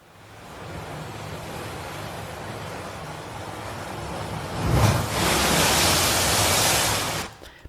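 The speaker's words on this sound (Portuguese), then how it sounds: "Isso aqui nada mais é do que um som de mar qualquer." Generic sea waves used as a sound effect at the start of a music mix: a steady broadband wash of surf that swells louder near the end, then cuts off abruptly, with no voices.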